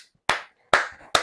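Three sharp, loud hand claps land about half a second apart, each with a brief ringing tail and silence between, without any talk.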